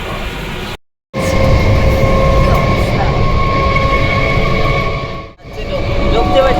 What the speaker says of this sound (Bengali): আর আমরা উঠে পড়েছি ট্রেনে।